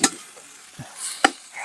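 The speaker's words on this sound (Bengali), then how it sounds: "সুন্নি দিয়ে নেড়ে দাও।" A spatula stirs noodles in a pan, giving a few separate scraping strokes spread over a quiet, faint background of low sizzle, close by and without talk.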